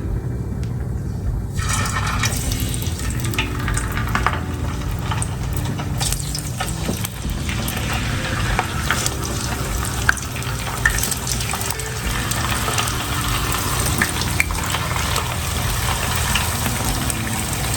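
Low carb corn tortilla pieces fry in avocado oil, producing a steady, continuous sizzling hiss over a low hum that lasts the whole time.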